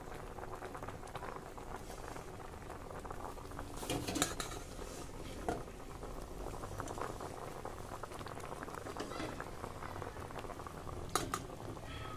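Raw mango sponge rasgulla boiling in sugar syrup, a steady close bubbling and popping throughout with a couple of brief pot or utensil clinks.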